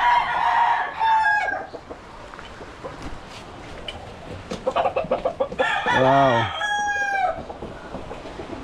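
Chickens cluck nearby while a rooster crows loudly at close range, its call rising and falling over a steady background of clucking; a person briefly exclaims.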